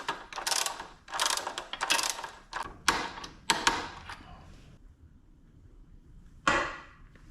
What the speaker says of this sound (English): Get it nice and snugged up, and then we'll torque it to spec